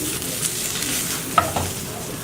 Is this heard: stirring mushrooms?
yes